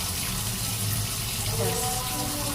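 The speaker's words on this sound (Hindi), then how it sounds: "ये 1 बाउल ही पानी डालूंगी मैं" A bowl of water poured into a hot pan of aloo matar keema makes a loud sizzling, hissing gush that fills the pan, close up, under a woman's speech.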